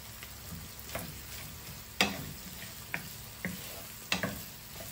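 Chickpeas and mixed vegetables frying over medium heat, a steady soft sizzle with occasional sharp pops and crackles spaced a second or so apart, close and alone.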